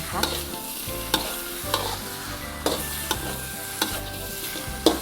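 Shrimp stir-fry with chili and salt stirred in a wok: repeated metallic scrapes and clanks of the spatula at an uneven rhythm over a steady sizzle, close and clear, no speech.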